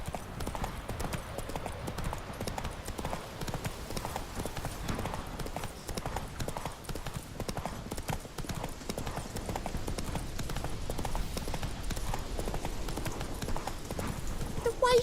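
A horse gallops in The Witcher 3: Wild Hunt, with rapid rhythmic clip-clop hoofbeats throughout and an occasional whinny, with game speech heard over it.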